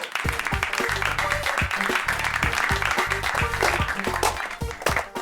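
A group claps in a scene from a superhero TV series, with sharp, close claps in an uneven rhythm over steady tonal background sound.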